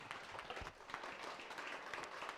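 A small audience at a songwriters' circle applauds a musician, a soft, distant patter of clapping hands sustained for a couple of seconds with faint murmuring underneath.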